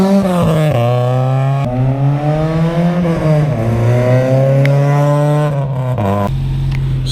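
A car engine revving hard and shifting through gears up close, loud rising and falling roars as it drives past and away.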